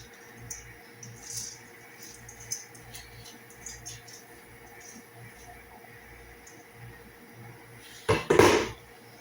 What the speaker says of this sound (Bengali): গাইস এবার চালটা ঢেলে দিচ্ছি এখানে।